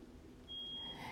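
A single thin electronic alarm beep sounds from downstairs in a quiet home, one sustained tone lasting about half a second, faint and distant over low room hum, with no talking.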